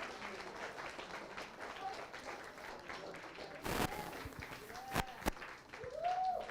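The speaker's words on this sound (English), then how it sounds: "why don't we give Mr. Ratcliff a round of applause" Audience applause at a 90th birthday celebration and fellowship launch event, a steady patter of clapping from a modest crowd, with voices talking and a few sharp knocks and whoops over it.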